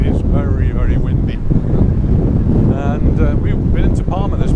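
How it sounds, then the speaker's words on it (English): Strong wind buffets the microphone on the beach at Santa Ponsa, Mallorca, a loud continuous rumble with gusts throughout, while a person talks over it. "It is very, very windy."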